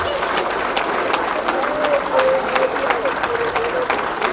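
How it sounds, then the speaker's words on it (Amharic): Applause at the funeral ceremony for artist Frehiwot Bahru, held on a stage: a loud, steady wash of many hands clapping together from a crowd, continuous throughout, with voices mixed in. "ጭብጨባውን አታቋርጡት።"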